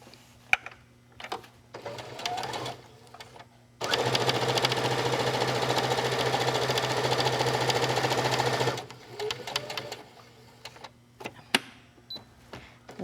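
A sewing machine stitches a bag's lining to its front in one steady, loud five-second run, bracketed by quieter clicks, handling noises and brief bursts of stitching before and after.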